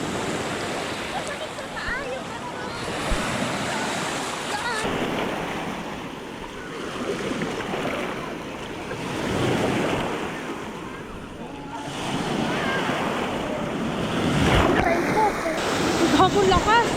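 Strong sea waves surge and crash on the shore at Finale Ligure, Italy, a continuous rushing roar with swelling peaks, heavy wind buffeting the microphone throughout.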